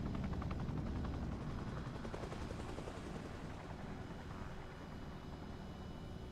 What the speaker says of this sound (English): What is this heli doing?